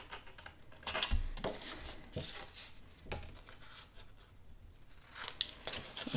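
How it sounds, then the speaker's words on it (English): Scissors trim the corners of paper pieces for a folio craft project, a series of quiet, close snips and rustles scattered irregularly over several seconds. "I'm going to trim corners here."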